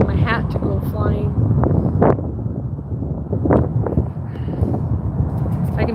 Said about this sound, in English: I hope the wind isn't catching on here